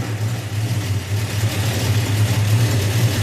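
Carbureted car engine idling steadily at about 900 RPM, a low even rumble with a slight pulsing, close and continuous.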